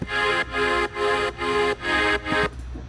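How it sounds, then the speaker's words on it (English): Two layered synth chords, one voiced an octave higher and one lower, pulse together in six even, sustained hits of a bright, full texture, then cut off into a faint tail. "and together they sound like this."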